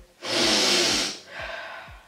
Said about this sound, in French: Renifle pas à côté de ma banane